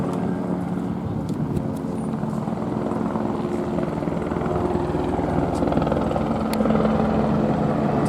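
LAPD police helicopter passing overhead outside a Home Depot, a steady droning rotor hum that holds at moderate loudness and swells slightly toward the end, with faint scattered background noises.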